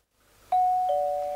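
A doorbell rings in the Japanese video game Amagami, sounding as two clean electronic ding-dong tones that ring out one after the other over near silence.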